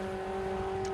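Formula Ford 1600 race cars at Kirkistown circuit in Northern Ireland, engines sounding as a steady whining tone as they come past into the first corner, heard faintly and at a distance.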